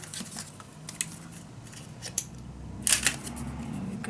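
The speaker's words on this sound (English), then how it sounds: "Cut that little piece." Scissors snip through a small piece of patterned scrapbook paper, a few quiet cuts and rustles with a louder crisp clip near the end, close by and with no voices.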